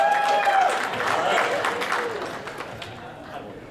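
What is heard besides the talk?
audience applause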